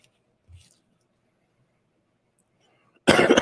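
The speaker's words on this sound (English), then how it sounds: "I still have a little bit of a cough" A short, faint stretch of near silence with a soft thump, then a sudden loud burst like a cough breaking in at the very end.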